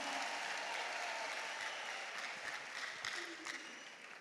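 A church congregation applauds during worship, a broad dense clapping that sounds somewhat distant and soft and eases slightly toward the end, with no singing or talk over it.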